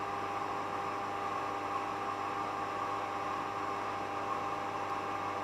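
Zero Lenz dynamo generator motor spinning at high speed near six thousand RPM, a steady even mechanical hum and whir that holds unchanged throughout, moderately quiet.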